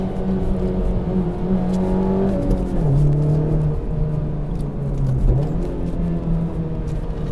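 A Honda Civic Type R's turbocharged engine pulls hard along back roads, its drone rising and falling through gear changes in a sustained, close-miked run with no talking.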